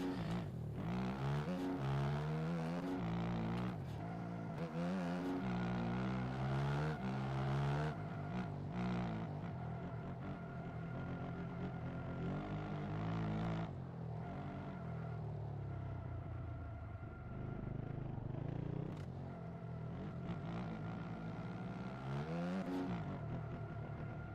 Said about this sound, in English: I'm trying to like purposely slide the back end round to be like drifting